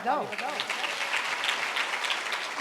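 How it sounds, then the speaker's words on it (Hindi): Audience at a Karma Mata Jayanti gathering of the Sahu community in Bakali, Kurud, clapping in a steady dense wash throughout, with a voice speaking at the start. "तो ताली बजाओ"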